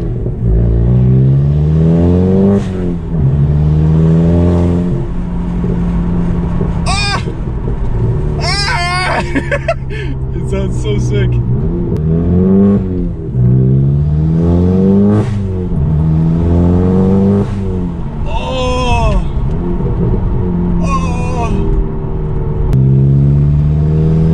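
A Volkswagen MK7 GTI fitted with an Integrated Engineering intake revs and accelerates repeatedly, engine pitch sweeping up and falling back in loud close surges, with voices talking over parts of it.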